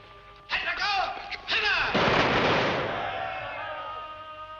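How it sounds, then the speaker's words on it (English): A firing squad in a 1953 film fires a loud, close volley that breaks into a burst of overlapping shots and then a long echoing rumble, with voices faintly underneath. "Firing squad. It's execution day."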